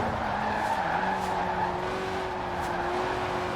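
A Lotus Elise Sport 190 with a 1.8-litre engine that revs to 8,000 RPM, in the Forza Horizon 4 racing game, holds a steady, high-pitched, buzzing engine whine at close range, loud and continuous throughout.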